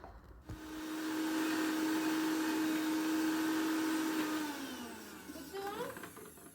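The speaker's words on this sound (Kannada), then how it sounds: "ಮಿಕ್ಸಿ ಸೌಂಡ್ ಬೇಗನೆ ಎದ್ಬಿಟ್ಟ" A kitchen mixer grinder whirs steadily at high speed, grinding coriander, curry leaves and tamarind into a paste for pepper-cumin rasam, then winds down with a falling pitch and a few rattles as it stops.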